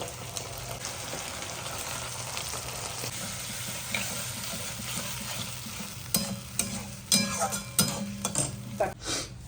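Egg chilli sizzling steadily in a pan as a sauce mixture goes in, a constant loud fry hiss that turns busier toward the end with scraping stirs and clinks of a utensil against the pan.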